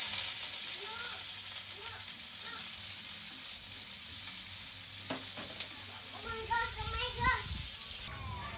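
Aromatics sizzle and fry steadily in a pan for Filipino sinigang with crispy pata, a continuous close hiss with brief stirring scrapes, while someone talks over the cooking.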